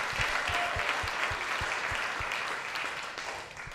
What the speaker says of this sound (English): Please give all our presenters a big round of applause.